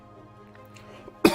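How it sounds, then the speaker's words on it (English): A single sharp cough bursts out near the end, loud and close after a stretch of quiet game-stream background hum. "the cough decides to come back now"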